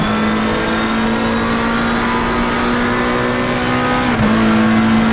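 Aston Martin GT3 race cars in a racing game at Imola give a loud, continuous engine drone, a steady high whine that dips sharply in pitch near the end as a gearshift or passing car changes the note.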